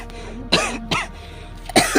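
A person coughs three times in quick succession, close by, with short gaps between the harsh bursts.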